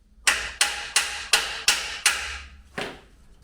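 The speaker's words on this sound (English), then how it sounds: "a few taps of a hammer just to tap it off the differential and then give it a wiggle" Hammer taps knocking a frame off the differential of a 1993 Mazda MX-5 during engine and gearbox removal in a home garage, six sharp evenly spaced metallic blows, then a short pause and one final hit.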